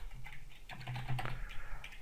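Keys clatter in quick irregular bursts on a computer keyboard while entering Bootstrap 4 classes, close and steady with brief pauses, and no voices over it.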